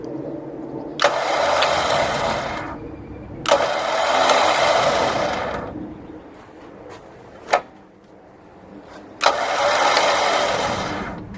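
A repaired Jeep winch whirs under power in three long runs, each opening with a sharp click and fading off, with quiet gaps between them.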